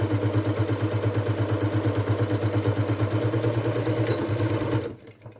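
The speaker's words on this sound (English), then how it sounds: "So I'm just going to sew up" Sewing machine running a steady row of stitches through the lining of a Halloween witch hat, a fast, even whirring rattle held loud and close for nearly five seconds, then cutting off abruptly into silence.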